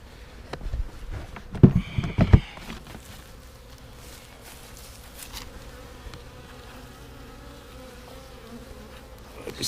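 A steady, low honey bee buzz drones throughout from a newly installed package of bees in a hive, with a few louder rustling knocks near the start before settling into a soft continuous hum.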